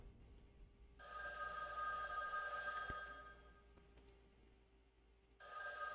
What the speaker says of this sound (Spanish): Sonó el teléfono.